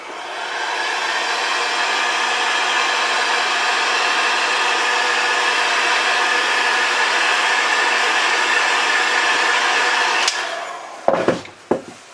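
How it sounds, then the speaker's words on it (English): A heat gun shrinking heat-shrink tubing on a Dodge 2500 headlight wiring harness, a loud steady blowing whoosh that runs continuously for about ten seconds, then cuts off followed by a few handling clunks. "Okay, heat shrink that."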